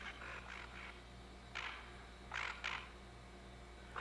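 Duck calls or quacks during a duck hunt, outdoors, several short raspy bursts in two groups, over a steady low hum.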